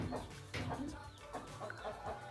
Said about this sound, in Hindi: और ये असील की मुर्गी है।